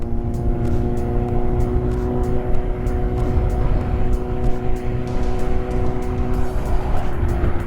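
Kawasaki Z800 motorcycle cruising on a highway at steady speed, a loud continuous engine drone with steady harmonic tones and rushing wind, heard close and without pause; no talking.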